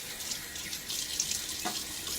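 Water runs and splashes at a sink as the face is wetted before a shave with a Feather AS-D2 razor, a close, continuous wash with small splashy bursts and no talking.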